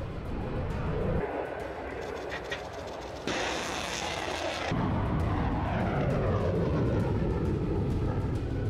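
Supersonic fighter jets flying in a military exercise make a loud, continuous roar with a brief harsher burst in the middle, then a steady rumble that stays close and powerful throughout.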